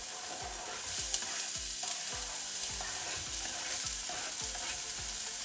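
Half a diced red onion fries in a pan with chili, giving a continuous close sizzle punctuated by regular rhythmic scraping and clinking strokes of stirring.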